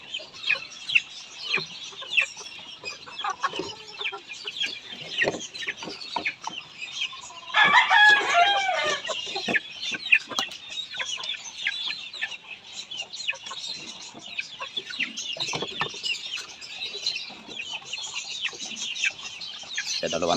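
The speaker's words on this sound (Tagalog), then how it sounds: "Ayan, papakainin na natin dito yung mga sisiw." Chicks and chickens cluck and peep continuously at close range while being fed, with a louder burst of clucking partway through and steady chattering the rest of the time.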